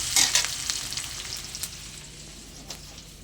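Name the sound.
onion and nigella seeds frying in oil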